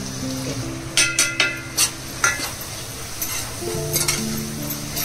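Spices are stirred into gravy sizzling in oil in a pan, with a steady fry hiss under several sharp utensil scrapes and clinks, close and clear, without talk.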